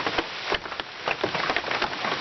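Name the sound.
rain falling on RV roof and porch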